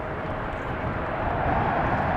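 A fixed-wing airplane arriving at Amsterdam Schiphol Airport in windy conditions, its engines a steady, broad roar held at an even, moderate loudness throughout, with no talking.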